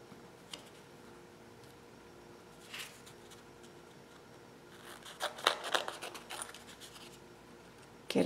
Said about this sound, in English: And here I can cut it up a little bit more